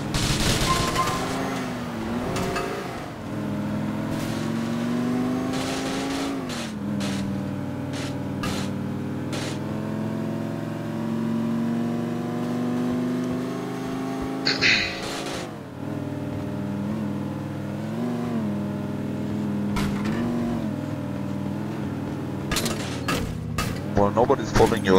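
Police cars race in GTA IV with droning, revving engines that rise and fall for the whole stretch, cut by sharp bursts of gunfire, while players talk over the action.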